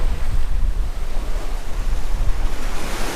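Ocean waves and strong wind heard from aboard a boat on a bright morning at sea, a continuous loud rush of surf and buffeting wind noise across the microphone with no one talking.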